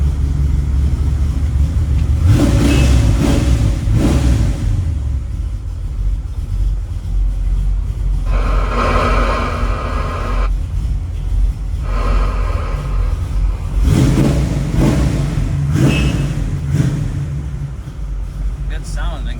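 A 1969 Chevy Nova's 383 stroker V8 with a 5-speed runs with a deep low rumble, revving up in several swells while people talk nearby.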